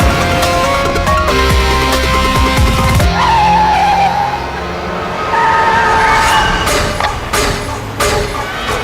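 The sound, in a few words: car skidding while driven recklessly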